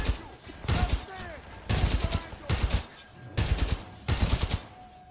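Five bursts of automatic gunfire come from the video game Titanfall 2, each loud and sharp with short pauses between them, under occasional voices.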